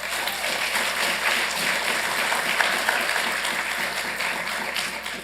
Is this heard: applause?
yes